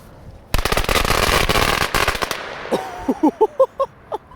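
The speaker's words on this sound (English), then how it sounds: "let's go ahead and see how these Black Cat firecrackers do" A long string of Black Cat firecrackers rips off in rapid, loud crackling pops, then slows into a few scattered bangs near the end.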